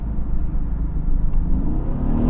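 Mercedes-AMG GT S engine running with a deep, steady low rumble and mild revving, close and continuous for about two seconds, no talk.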